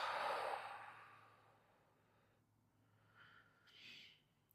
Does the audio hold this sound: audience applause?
no